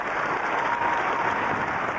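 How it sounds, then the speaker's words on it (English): A crowd at a televised robot competition applauds steadily and loudly as a robot crosses the finish line for bronze, a dense, continuous wash of clapping with no speech. "Huge applause as Clodhopper finally crosses the line to take the bronze medal."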